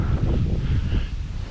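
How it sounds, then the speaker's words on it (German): Wind gusts across an open field during hay cutting, buffeting the microphone in a close, steady roar with low rumbling surges and no voices. "Eigentlich ist es gar nicht so warm, ist auch noch schön Wind dabei,"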